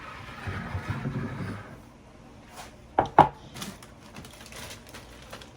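Sourdough discard batter being stirred in a bowl, a soft scraping, churning texture at close range that fades out, followed by a couple of sharp knocks and lighter clatter.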